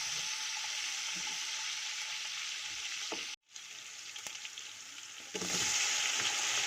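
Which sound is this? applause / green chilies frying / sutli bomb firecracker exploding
green chilies frying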